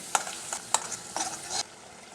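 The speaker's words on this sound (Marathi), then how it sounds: "थोडा मसाला भाजून घ्यायचा तेलात" Masala spices frying in hot oil for an Indian egg curry, heard as a few short sizzling and stirring bursts, quiet and close, with no talking.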